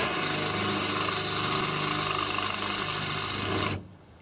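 A drill bit boring out rivet heads on an Apache camper hatch cover, a loud, continuous whirring grind that cuts off abruptly near the end.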